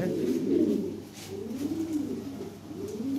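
Several Lahori Sherazi pigeons coo in low, throaty, rolling waves, one call following another in a steady loop with no talking.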